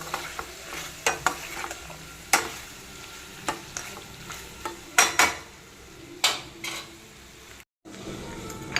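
Liver frying in hot oil in a pan and being stirred: a steady low sizzle broken by repeated sharp scrapes and clinks of a utensil against the pan, with a brief dropout near the end.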